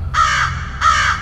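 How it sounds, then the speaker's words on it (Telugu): A crow gives two loud, close caws in quick succession, each harsh call lasting about a third of a second with a short gap between, and no voices. "పాండిచ్చేరిలో కాకి ఎలా అరుస్తుందన్నా"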